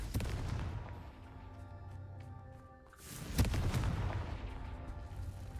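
Repeated Confringo blasting-curse explosions from the Hogwarts Legacy video game, a series of booming, gunfire-like bursts with a sharp loud blast near the middle and continuous rumbling impacts throughout.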